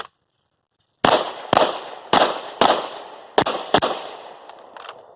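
A pistol fires six sharp, loud shots in quick succession during armed security guard firearms training, following a second of silence, each crack ringing out briefly with no voices.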